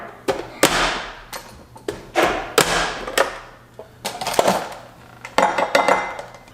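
A knife chops cucumber into smaller pieces on a cutting board for a summer salad, with about a dozen sharp, close knocks in an uneven rhythm.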